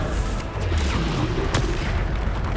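Bombarda explosion spell in the video game Hogwarts Legacy, a dense, rumbling blast with a sharp crack in the middle, over continuous loud game noise.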